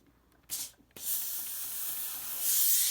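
Steam iron pressing a fabric mask on a warm table: a short hissing puff, a brief pause, then a long steady blast of steam that swells louder toward the end, close by and with no talk.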